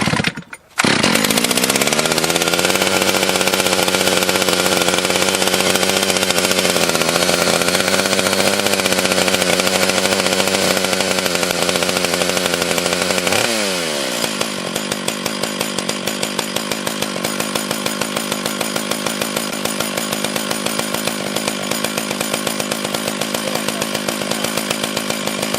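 A Stihl 461 or ported Husqvarna 372 big-bore chainsaw fires on choke and runs loud and steady near the microphone, then its pitch drops abruptly into a lower, pulsing idle-like rhythm for the remainder.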